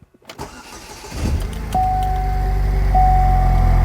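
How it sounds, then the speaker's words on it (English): A cold Saturn Sky engine cranks briefly, catches and starts, then settles into a steady running rumble with a faint whine, close by. "Now I'm gonna start the engine."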